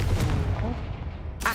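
A Confringo spell blast in the Hogwarts Legacy video game lands as a deep, rumbling boom that decays over a second, ending in a sharp bright burst.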